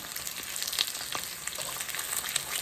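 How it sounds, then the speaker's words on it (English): Halved potatoes fry and brown in a pan alongside a collard greens dish, a steady close sizzle with faint crackles and soft pops, no voices. "I'm gonna turn on the potatoes. Some of them are already browning."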